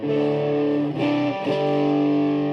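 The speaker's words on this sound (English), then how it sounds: "Good sound though. I mean, that's a nice distortion." Heavily distorted electric guitar chords ringing out loud and sustained, with a brief change between two held chords, no voices.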